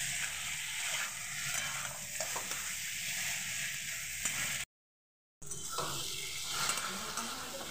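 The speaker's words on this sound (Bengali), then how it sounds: "এবার মশলার সঙ্গে ভালোভাবে আমি এটাকে কষিয়ে নেব।" Chicken gizzard and liver cook with spices in a pan, giving a steady moderate sizzle with faint stirring and scraping throughout, cut by a brief total dropout near the middle.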